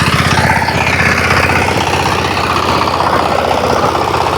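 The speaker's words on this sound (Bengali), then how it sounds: "তো পাওয়ার টিলার চালাচ্ছে এবং জমি চাষ দিচ্ছে" A power tiller ploughs a field being prepared for jute, its engine giving a loud, steady, close chugging drone throughout with no voices.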